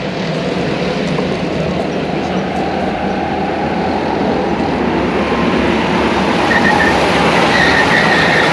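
Go-karts in an endurance race roll off in a flying start, a steady dense wall of engine roar and rumble that stays loud and continuous throughout.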